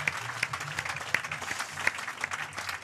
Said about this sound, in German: Und das ist auch auf jeden Fall nochmal ein Applaus wert.